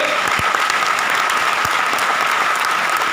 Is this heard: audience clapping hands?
yes